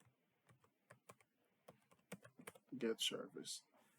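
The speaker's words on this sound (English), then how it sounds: "I'm going to type the command get service" Keys clatter on a computer keyboard as a PowerShell command is typed, a quick irregular run of clicks that grows denser and louder toward the end, with faint murmurs in the background.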